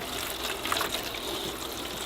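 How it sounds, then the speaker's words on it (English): Water trickles and splashes steadily into a large seed-starting tray, a close, moderate, continuous pour with a few brighter droplet sounds and no talking. "I would put some water into this larger tray"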